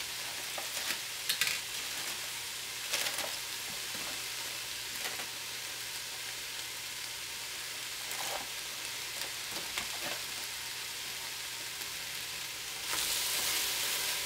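Vegetables and flaxseed, seasoned with cayenne, frying in a pan for a vegan pot pie, giving a steady broadband sizzle throughout with occasional stirring scrapes, growing louder near the end.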